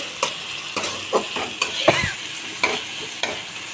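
Spices frying in a pan at home, a soft hiss broken by sharp scraping and clinking strokes of a utensil stirring against the metal, close and fairly quiet.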